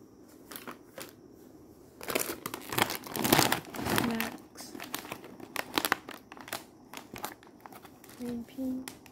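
A plastic zipper bag being handled, with a dense run of loud crinkling and rustling crackles that swells and fades across the stretch, close to the mic, while faint brief vocal sounds appear near the end.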